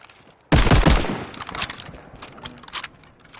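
Rifle gunfire in Call of Duty Vanguard Zombies, with a loud burst of rapid shots followed by scattered, fading shots and gameplay effects.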